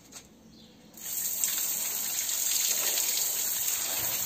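Rugs being rinsed on the ground outdoors: water starts gushing abruptly after a second and keeps up as a steady close hiss of spray and splashing.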